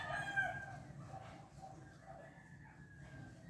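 A rooster crows outdoors, fairly faint and somewhat distant. Its tonal call comes near the start and trails off over a quiet background.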